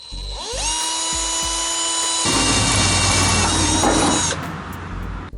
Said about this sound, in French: ils préconisent de percer avec un foret de 3/16 de pouce